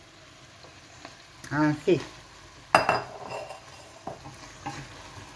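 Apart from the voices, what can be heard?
potatoes frying in a pan for lentil stew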